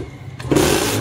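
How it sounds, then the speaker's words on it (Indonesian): A Kawasaki Ninja RR motorcycle with a weak, underpowered engine is started and given a short rev, a quiet rumble that jumps to a louder, raspy burst about halfway through and holds briefly. "kita hidupin dikit lah ya, cuman paling nggak saya geber"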